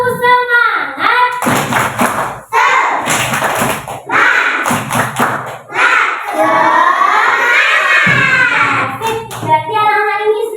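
Children in a classroom perform a rhythmic group clap, a patterned sequence of sharp claps and thumps, mixed with loud chanting voices throughout.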